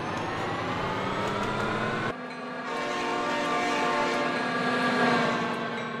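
A train in the BeamNG.drive driving game, with a continuous loud engine drone and steady tonal hum that drops out briefly midway, then resumes and builds, with no talk.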